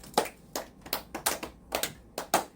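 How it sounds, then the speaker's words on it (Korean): A small group in a Korean church mission gathering clapping in loose, uneven bursts, about eight sharp claps in under three seconds, fairly close and moderately loud with no talk. "박수 한번 칩시다."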